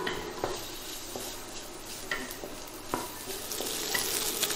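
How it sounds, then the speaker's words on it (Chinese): Fatty pork hits a wok with a soft continuous sizzle, broken by sharp clicks and scrapes of a utensil stirring against the pan, close and without speech. "这比较肥的肉先下锅。"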